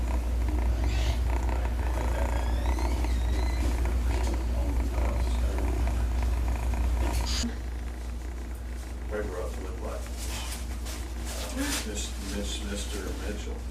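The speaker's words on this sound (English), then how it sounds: "He's purring and he's kneading and everything just like a normal kitten does." A severely injured rescued kitten purrs in a steady, close, low rumble throughout while kneading, with a person talking over it much of the time.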